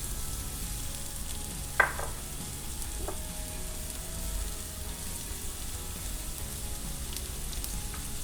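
Onions frying in a little corn oil in a pan, a steady soft sizzle with one sharp clack of a utensil early on and a fainter knock after it, and no talk.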